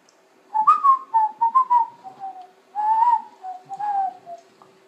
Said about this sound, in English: there was a whistle to that